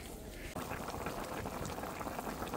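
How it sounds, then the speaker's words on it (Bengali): Native koi fish fry crisply in hot oil over a clay stove, with a steady, dense sizzle that swells louder partway through and keeps crackling close by. "এই যে দেশি কই ভাজা হচ্ছে একদম মশমশা করে"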